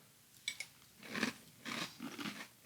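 Honey Lovebird cereal crunched in milk, a few sharp bites followed by bursts of close, loud chewing and crunching with no talk.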